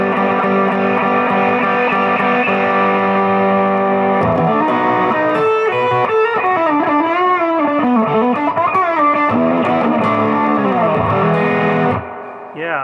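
Electric guitar played through a distortion pedal with a fuzzy, saturated tone, sustained chords giving way to busy melodic runs, loud and up close, then a brief drop near the end.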